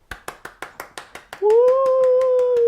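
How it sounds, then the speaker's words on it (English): Eight evenly spaced claps ring out close by, a steady clap-clap rhythm, then a loud sustained whistle-like tone takes over and holds to the end; no crowd roar is evident. "And the crowd goes wild."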